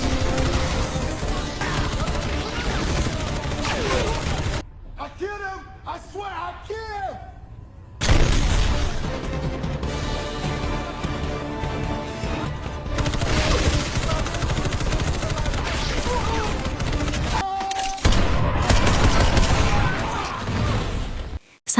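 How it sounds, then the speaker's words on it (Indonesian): Film gunfire as a gunner shoots a pirate leader in an action movie, dense bursts of shots and booms over a loud score, broken by a brief quieter gap with shouting voices before the firing resumes. "Gunner yang sudah panas duluan tak sabar, langsung menembak pimpinan perompak."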